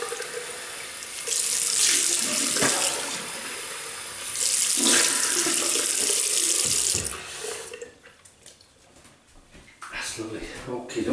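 Tap water runs into a sink in two loud, steady streams as a razor and face are rinsed after shaving. The flow then stops, leaving lighter splashes and a voice speaking nearby.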